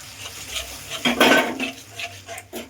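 Spoon stirring yogurt into a thick spiced curry paste with kasuri methi in a pan for doi katla, scraping and clinking against the metal in several short strokes, loudest midway, with no talk.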